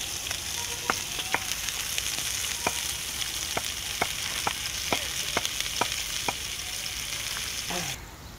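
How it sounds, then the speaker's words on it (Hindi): Onions brown in a kadai in a village kitchen, giving a steady, even hiss of frying, with sharp stirring clicks at roughly regular intervals before the sizzle tapers off at the end. "अब इन प्याज़ों को डाल लेता हूँ कढ़ाई के अंदर और इसको ब्राउन करता हूँ।"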